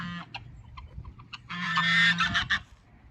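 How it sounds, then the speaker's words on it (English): Farm geese honk loudly and repeatedly at close range, with scattered calls building into a dense burst of overlapping honks before tapering off. "my geese are so loud"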